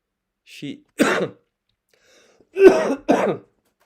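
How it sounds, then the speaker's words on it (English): Four short, close coughs, throat-clearing in character, coming in two pairs with a brief pause between them. "Please pardon my cough."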